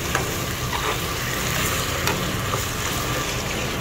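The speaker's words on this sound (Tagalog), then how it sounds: "Ginisa niya sa bawang." Garlic sautéing in a hot pan, a steady broadband sizzle with faint stirring scrapes, close and continuous with no talk.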